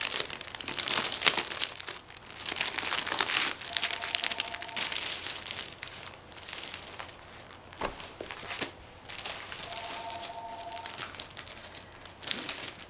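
A reclosable cellophane bag holding paper packs crinkles and rustles up close in repeated bursts of handling.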